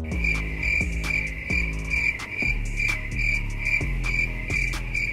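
Steady, rhythmic cricket chirping rings out alone, with regular pulsing bursts over a continuous high trill and a low droning hum beneath.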